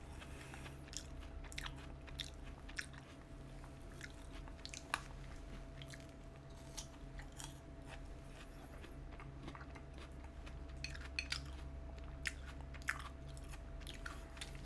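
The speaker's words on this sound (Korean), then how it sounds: "참외가 처음 먹었을 때보다 물러졌어 좀. 처음엔 되게 아삭아삭한 느낌이었는데 좀 물은 참외가 됐어." Korean melon (chamoe), gone somewhat soft, being chewed close to the mic with a steady run of small, moist crunching bites over a low constant hum.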